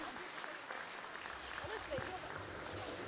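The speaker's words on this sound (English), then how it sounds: "Let's have a huge round of applause for Stephanie, our gold medalist at the British Championships 2013" Applause at a swimming championships for a gold-medal swimmer, a faint, distant, even wash of clapping with voices underneath.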